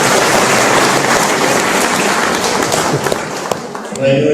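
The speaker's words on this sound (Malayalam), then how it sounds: "റഹീം സാറിന് വേണ്ടിയിട്ട് ഒരു കയ്യടി കൊടുക്കാവോ?" An audience applauds for Rahim sir with a loud, close, continuous wash of clapping that thins out toward the end, with some voices mixed into the noise.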